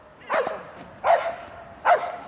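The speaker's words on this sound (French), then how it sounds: "c'est le chien qui aboie" A dog barks three times outdoors near a lake, short mid-pitched woofs spaced under a second apart, moderately close over quiet background.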